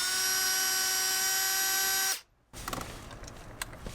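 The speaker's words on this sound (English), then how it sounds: "let's go ahead and remove this 10mm bolt" A power tool whirs with a steady high whine for about two seconds as it removes a 10mm bolt inside a Tesla Model X AP1, then cuts off abruptly and leaves fainter rattling and handling noise.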